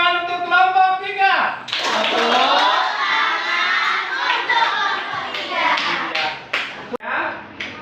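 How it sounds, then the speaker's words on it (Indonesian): Applause for a student group in a school classroom: a burst of clapping from the class with some cheering voices, loud and close, following a spoken call. "Tepuk tangan untuk kelompok 3"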